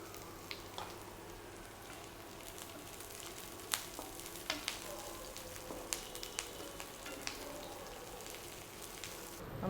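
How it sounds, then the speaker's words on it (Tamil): Curry leaves fry in hot oil for a Tamil-style egg korma, giving a steady close sizzle with scattered sharp crackles and pops and no talking. "இப்போ வந்து நம்ம கருவேப்பிலை ஆட் பண்ணுறோம்."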